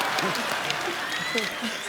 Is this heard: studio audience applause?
yes